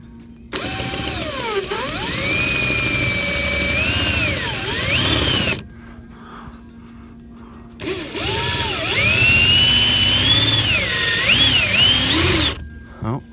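A power drill with a cheap bit whines steadily while cutting a hole in an enclosed trailer, its pitch rising and falling as it bites, running in two long bursts separated by a short pause.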